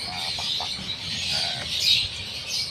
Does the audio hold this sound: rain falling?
no